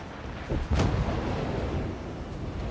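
A heavy naval gun salvo from the Richelieu battleship in World of Warships, one deep booming blast with a rumbling tail that fades over a couple of seconds, loud and close.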